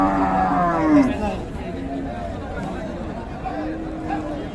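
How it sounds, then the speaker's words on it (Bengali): A cow with a docked tail moos at a busy cattle market: a drawn-out, wavering low call near the start that fades into steady crowd chatter and talk. "এই গরুটা তবে গরুটা কিন্তু লেজটা নাই"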